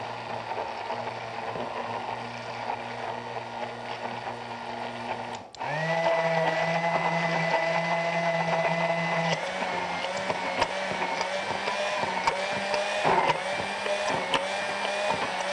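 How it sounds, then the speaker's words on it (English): An immersion blender whirs steadily while emulsifying mustard and oil for a mayonnaise-style emulsion; its motor pitch changes and rises partway through as blending continues, loud and close, with no talking. "we just use the immersion blender and slowly"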